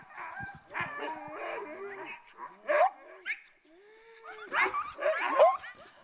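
A pack of sled dogs at a professional musher's site yips, whines and barks excitedly in overlapping bursts while being harnessed for a canicross cart ride, with high eager cries rising throughout.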